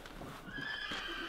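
A horse whinnies close by in one short, loud neigh with a rising, wavering pitch, along with a faint shuffle of hooves.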